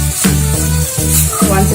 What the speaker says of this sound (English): Just mix everything in the pan.